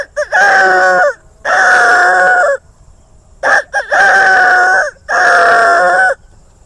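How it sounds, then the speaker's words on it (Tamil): A rooster crows four times in close succession, each call loud, harmonic and sustained for about a second, separated by short silences with no other sounds. "எங்களுக்கு வந்து கோழி தான் அலாரம், காலையில் 6 மணிக்கு கூவும்"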